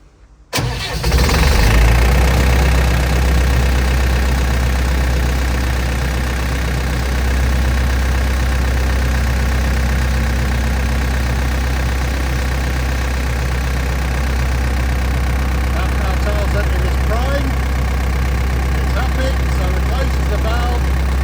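An Idrofoglia Turbopump's engine starts and settles into a loud, steady running drone while pumping water, continuous and close throughout.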